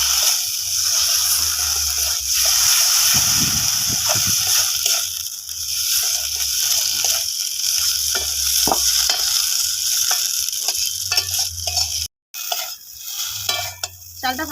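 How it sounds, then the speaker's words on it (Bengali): Rice tossed with spices in a hot pan for a Bengali vegetarian eggplant dish, a steady loud sizzle with scraping stir strokes throughout and a brief gap near the end, no talk. "চাল মশলার সঙ্গে একটু কষে নেবো"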